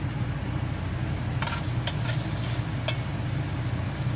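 Food seasoned with garlic powder fries and sizzles steadily in a pan inside a semi truck cab. A spatula stirs it with a few scraping clicks, and there is constant close background noise.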